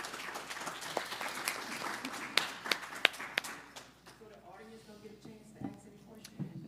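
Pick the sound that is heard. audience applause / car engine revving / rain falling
audience applause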